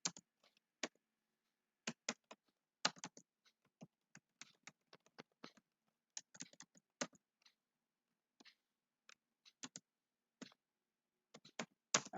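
Names being typed on a computer keyboard, quiet separate clicks and short bursts of keystrokes with gaps of silence between them, close and faint with no talking.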